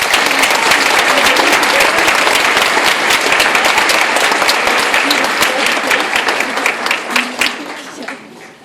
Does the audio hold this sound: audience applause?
yes